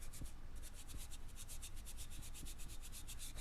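Bronze acrylic paint rubbed back and forth over a ceramic piece, giving a steady, soft scrubbing rasp in regular strokes, close and fairly quiet with no talking.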